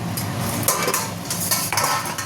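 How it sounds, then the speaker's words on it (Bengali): A ladle scrapes and clanks against a metal pot as mutton curry is stirred, with repeated close metallic strokes in an uneven rhythm and a soft sizzle underneath. "এবার আবার নেড়ে দেখবো।"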